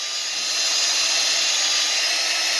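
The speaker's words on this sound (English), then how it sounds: "That hydraulic brake cylinder hone is now attached to the drill." A steady, high-pitched electric drill whine runs continuously at close range as it spins a hone inside a hydraulic brake master cylinder wetted with brake fluid, with no talking.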